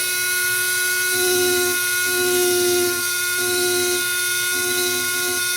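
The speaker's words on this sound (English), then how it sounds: "the ruby tip, I think you can tell, cuts nice and clean" A rotary carving tool fitted with a ruby tip carves feather detail into a bird carving, giving a steady high-pitched whine that swells in short repeated bursts as the tip bites into the wood.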